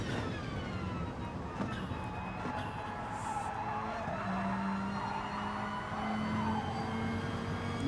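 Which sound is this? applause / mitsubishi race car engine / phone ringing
mitsubishi race car engine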